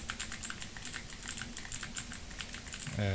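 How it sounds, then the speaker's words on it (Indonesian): Steady computer keyboard typing captured by a cheap microphone, a continuous run of quick, close keystrokes over a constant hiss of background noise, ending with a brief, louder tonal hum. "Termasuk suara keyboard seperti ini."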